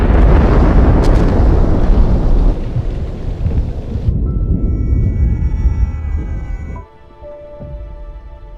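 A loud, deep rumbling explosion on a World War I battlefield at the Somme rolls on for several seconds, then drops off into a quieter fading rumble.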